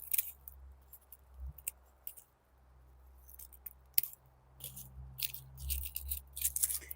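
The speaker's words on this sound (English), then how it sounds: "And I'm just gonna use my scissors right now to cut them." Scissors snip through dry hardneck garlic roots up close, a series of crisp, irregular cuts in quick clusters against a quiet background.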